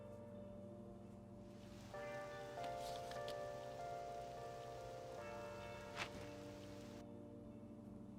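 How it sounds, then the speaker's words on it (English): Steady rain falling in the video game Persona 5 Royal, a soft continuous patter under layered game music tones. "Rain!"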